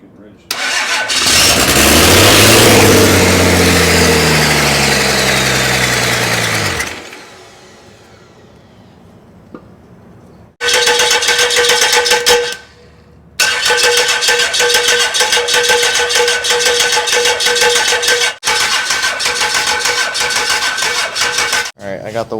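A 1986 Ford diesel engine, found in the desert and being revived, cranks and roars loudly for several seconds, then dies. It starts again and runs with a steady, rough, close drone, broken by a few brief dropouts.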